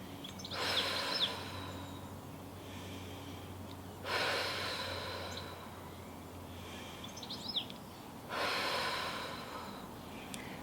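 Three slow, deep breathing cycles during a kids' Pilates session, each a soft audible exhale through the mouth after an in-breath through the nose, spaced about four seconds apart and fairly faint against a quiet room.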